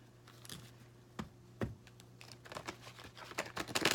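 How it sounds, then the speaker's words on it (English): Tarot cards shuffled by hand during a love reading, a few sharp riffling bursts and soft flicks that build into denser crisp card slaps near the end, close and fairly quiet with no talk. "I'm shuffling the wrong cards."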